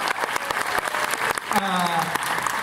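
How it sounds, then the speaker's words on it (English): A D23 Expo panel audience claps and cheers for Carl Barks, a burst of lively applause with whoops, while an excited voice calls out over the clapping near the end. "clap for Carl Barks"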